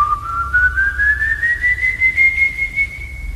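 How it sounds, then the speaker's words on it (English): A single long whistled note glides slowly upward in pitch and holds, thin and eerie, over a low rumbling background. "If his whistling sounds very loud"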